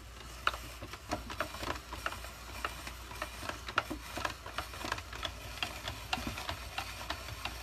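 A spiralizer cranking zucchini into noodles produces a steady run of close, fast ticking and clicking, even in rhythm and fairly faint.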